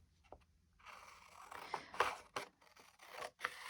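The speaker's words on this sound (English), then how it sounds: "I'm going to have to cut just some of this off." Scissors snip through fabric for handmade journal tags in a few close, crisp cuts with short scraping strokes between them.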